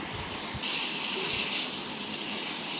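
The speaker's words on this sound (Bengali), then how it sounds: "পেঁয়াজ বাটাটা একটু ভালো করে ভেজে নেব" Onion paste frying in hot oil in a pan, a steady broad hiss and sizzle with a slight swell midway, constant and fairly close with no talking.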